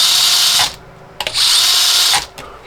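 Furitek MicroPython mini RC car motor whining at high pitch in two bursts of about half a second and a second each, each cut short by the drag brake, loud and close.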